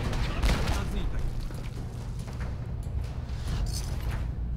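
Explosive pistol fired in Fallout 4, heard as sharp bursts over a steady roar of battle noise, with more gunfire and thuds running through the whole stretch.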